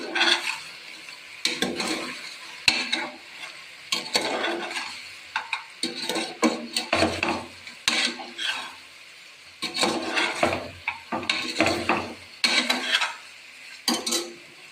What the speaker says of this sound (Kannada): ಇವಾಗ ಸ್ವಲ್ಪ ಬಾಡಿಸ್ತೀನಿ ಉಪ್ಪು ಹಾಕಿದ್ಮೇಲೆ